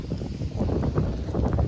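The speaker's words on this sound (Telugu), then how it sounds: "ఈ చలికి చల్లగా గాలి వస్తుంది" Cold wind gusts during a rain shower outdoors, a continuous low rumbling buffet with fluctuating surges, fairly loud and unbroken, no talking.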